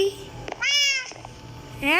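A cat meows several times, close and clear, with short rising and falling cries and a quiet gap in between.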